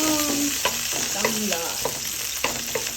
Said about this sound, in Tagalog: Okay, magigisa na tayo.